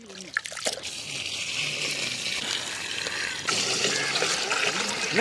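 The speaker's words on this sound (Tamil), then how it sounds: "இந்த அரிசியை கழுவி ஊற வைக்கிறதுக்கு" Rice being washed in water for soaking at an outdoor village cooking site by the beach, with trickling, sloshing water and splashes close by, a few louder bursts near the end.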